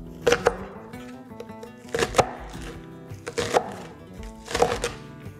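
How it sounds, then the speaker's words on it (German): Knife chopping spring onions into fine slices on a board, four clustered bursts of crisp thuds spaced about a second apart, close and distinct with no talking. "dann schneiden wir in feine"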